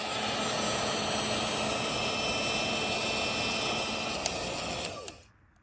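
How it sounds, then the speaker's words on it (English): A heat gun blasts a steady, loud airy roar while shrinking heat-shrink wrap onto a wire for truck cab lights, holding constant before a few clicks and a quick spin-down to quiet near the end. "I can go ahead and use the heat gun to shrink wrap that wire up"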